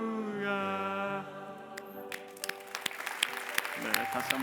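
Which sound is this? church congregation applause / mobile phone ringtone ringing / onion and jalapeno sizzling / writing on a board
church congregation applause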